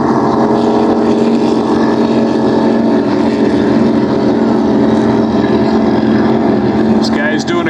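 Racing powerboat engines, including Class 3 boats, roar continuously and loudly on the St. Clair River, a dense steady drone with wind buffeting the microphone throughout.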